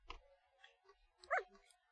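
Dog in The Thaumaturge giving a few short, soft barks and yips spread over two seconds, faint and fairly close, with no talking.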